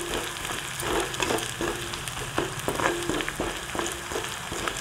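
Sliced onions and peeled garlic cloves frying in hot oil in a home kitchen, giving a steady close sizzle with occasional stirring scrapes and light taps throughout, and no voices.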